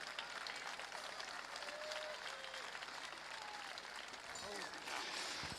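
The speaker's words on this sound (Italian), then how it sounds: "Un applauso bellissimo per gli amici di Ottana." A crowd at the Dì de Festa event in Quartu Sant'Elena applauds the visitors from Ottana, a dense, distant-sounding clapping with faint cheers and voices blended in, holding steady for several seconds.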